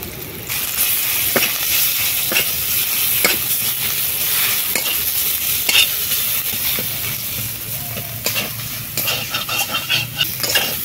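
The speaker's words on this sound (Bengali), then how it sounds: "দিয়ে দিচ্ছি তেল। তেলের মধ্যে দিয়ে দিচ্ছি পেঁয়াজ কুচি, আদা এবং রসুন বাটা, হলুদ গুঁড়ো, লঙ্কা গুঁড়ো," Chopped onion, ginger and garlic paste, turmeric and chilli powder fry in hot oil as a masala, a steady loud sizzle with repeated sharp scrapes and taps of a spoon stirring against the pan.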